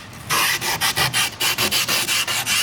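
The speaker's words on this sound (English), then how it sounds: "sand down the sides of your grip tape so it kind of sticks a little better" Skateboard grip tape having its edges sanded down, a loud close gritty scraping in quick regular strokes, about ten in a row, with no talking.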